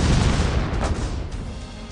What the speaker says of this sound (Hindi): मोबाइल में धमाका हुआ